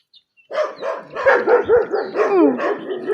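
A dog barks in a quick run of short, close, vocal woofs, some drawn out into whiny yowls.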